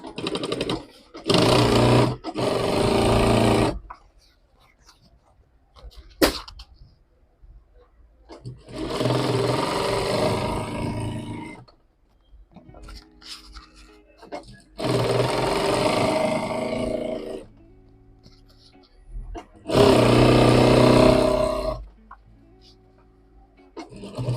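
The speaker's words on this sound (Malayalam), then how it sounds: "ഇനി നമ്മൾ നേരത്തെ പറഞ്ഞ പോലെ തന്നെ ഇങ്ങനെ സ്റ്റിച്ച് ചെയ്യാം." A sewing machine stitches a fabric pouch in several loud bursts of steady whirring, each running a few seconds, with quieter pauses between them where a voice talks.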